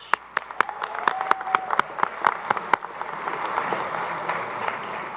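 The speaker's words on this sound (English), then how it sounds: "How about another giant round of applause for all of our graduates?" Audience applause at a university engineering management hooding ceremony in a theater, starting as sparse scattered claps and building into a steady, fuller round of clapping.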